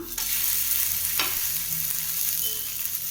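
Aval (flattened rice) breakfast fries in oil in a pan, a steady close sizzle with a brief scrape of turning partway through, no voices.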